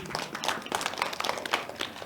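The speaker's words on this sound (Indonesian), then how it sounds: "Boleh tepuk tangan sekali lagi?" Applause from a studio audience at a televised dialogue forum with the Banten provincial legislature, a fairly quiet, scattered patter of hand claps lasting a couple of seconds.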